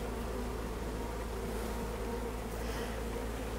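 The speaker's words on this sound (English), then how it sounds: "Some bees are going to escape while you're doing this," Honey bees buzz steadily throughout while a package of bees is being installed into a hive, a dense, continuous drone close to the microphone with no talking.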